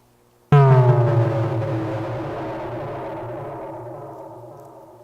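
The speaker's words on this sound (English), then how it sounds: "Turn this reverb on up." A single sharp tonal hit rings out and then decays slowly over several seconds in a long, spacious reverberant tail, with no voices.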